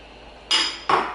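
Two sharp metallic knocks from a spoon striking a pot of venison chili with beef broth and black beans, close and loud, each ringing briefly before fading.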